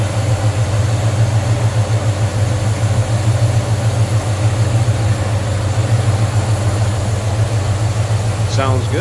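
A steady, low engine idle from a 1969 Chevrolet C10 pickup truck rumbles continuously, loud and close, with a faint higher whine near the end.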